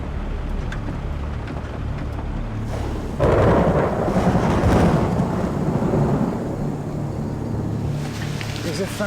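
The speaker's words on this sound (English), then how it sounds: "the thunder's just let rip too" A deep rolling rumble of thunder in a tropical Amazon jungle storm swells loud after a few seconds over a constant wash of rain and wind, then slowly fades back into the steady downpour.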